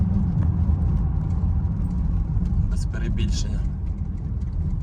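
2012 BMW X5 E70 40d with an N57 diesel engine running quietly, a low, steady rumble under someone speaking.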